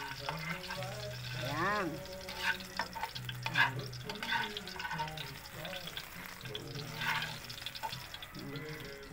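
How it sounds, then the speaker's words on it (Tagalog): Garlic and onion sauté in a pan of fried laing for adobo, with soft sizzling and scraping stirs under someone talking intermittently in Filipino. "Gigisa naman natin siya ngayon sa bawang at saka sibuyas."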